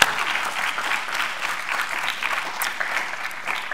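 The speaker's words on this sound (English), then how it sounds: "We're going to give you a warm round of applause while you think about it on the way up." Warm audience applause greets a presenter at a math teaching event, a steady dense patter of many hands clapping at moderate distance, continuous through the moment with no voices on top.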